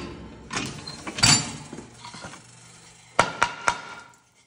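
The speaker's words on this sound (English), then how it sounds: "Got to dig this out with this swan neck chisel that I made." A handmade swan neck chisel digs a mortise out of wood, giving a few scattered scraping knocks followed by three sharp, close taps in quick succession.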